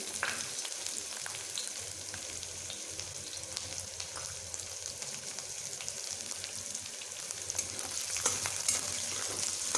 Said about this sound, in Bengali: যে রসুন ও আদা কুচিয়ে রেখেছিলাম সেগুলোকে এখন আমি এখানে দিয়ে দিচ্ছি